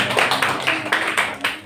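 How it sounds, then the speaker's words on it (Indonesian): Classmates in a teacher-training course group session clap briefly. Loud, evenly spaced bursts land about four times a second, close and alone, with no talk. "Tepuk tangan dong teman-teman."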